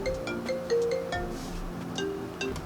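A melodic phone ringtone plays a short sequence of tonal notes at moderate volume over a faint room background.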